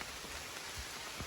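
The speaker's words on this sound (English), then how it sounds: "The canopy's keeping most of the rain off, so hopefully it won't be as bad as it sounds." Steady rain pattering on a forest canopy along a hiking trail, a dense continuous hiss with scattered drops, fairly close and alone without voices.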